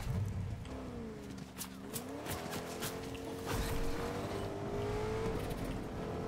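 A car engine in Fortnite drones and shifts pitch as it revs, with tire squeals and skidding bursts over a constant roar.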